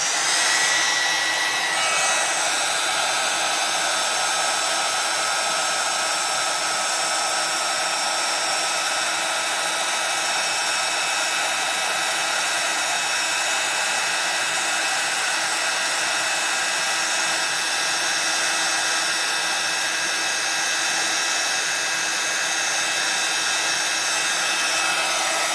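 A heat tool blows a steady, loud, whirring stream of hot air over Wow embossing powder on a gel plate, continuing without a break from start to finish.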